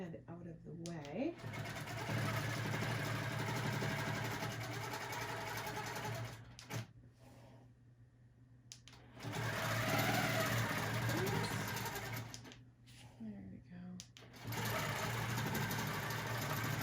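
A quilting sewing machine stitches a Lone Star quilt with a steady, fast mechanical whir in long bursts separated by brief pauses, close by, while someone talks over it at times.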